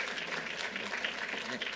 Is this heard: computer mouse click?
no